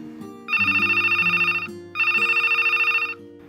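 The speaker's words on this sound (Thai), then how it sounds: "เสียงโทรศัพท์มือถือเครื่องหนึ่งดังขึ้นนานหลายทีแต่ไม่มีใครรับสาย" A mobile phone rings repeatedly and goes unanswered: two long, loud bursts of electronic trilling separated by a short pause, over a low background tone.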